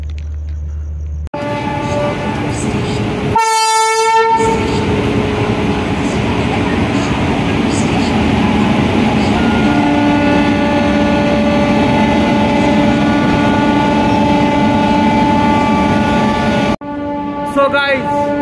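A train halts at a crowded Kolkata railway station, with a low continuous rumble, a loud horn blast early on and people talking nearby.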